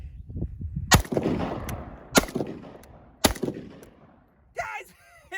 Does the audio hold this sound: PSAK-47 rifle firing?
yes